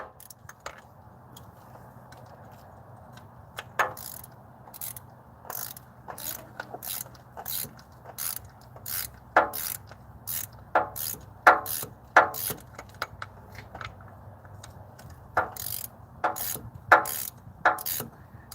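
A shortened ratchet wrench, cut down to about five inches, clicks in repeated bursts while a car starter is removed, the sharp ratcheting strokes fairly close over a low steady hum.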